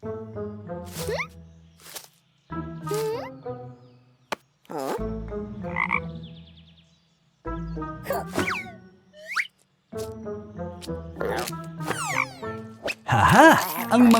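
Frogs croak in repeated bursts of rapid, rattling calls, close and fairly loud, with short pauses between groups and a few squeaky, chirping sounds mixed in.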